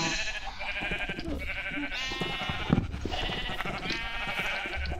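Minecraft sheep bleat over and over in the video game, a run of wavering, nasal baas that come in overlapping bursts, close and clear, with no talking.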